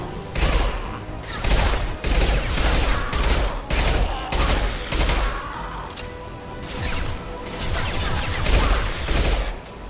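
Sustained bursts of gunfire and rapid weapon fire in the sci-fi shooter Mass Effect 2, loud and dense across the whole stretch, with crashing impacts mixed in.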